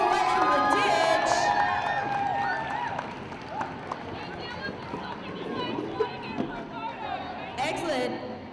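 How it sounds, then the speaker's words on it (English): A large crowd at a roller derby game between VRDL and Team New Zealand cheers and chatters steadily throughout, with some scattered clapping and shouts coming through. "Can we get a massive round of applause for Team New Zealand coming all the way out of the ditch?"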